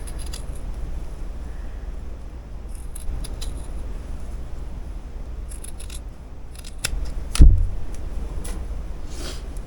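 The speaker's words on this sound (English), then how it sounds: "But just barely cut to that bottom seam." Scissors snip thread along the bottom seam of a sweatshirt, giving faint quick clicks over a low steady background hum, with one louder close snip near the end.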